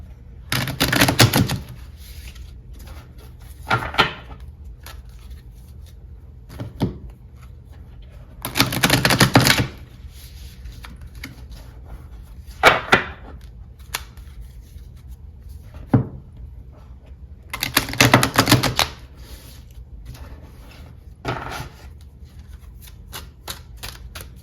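A deck of tarot cards is shuffled in several quick riffling bursts, each a crisp fluttering rush, separated by quieter taps and soft handling of the cards.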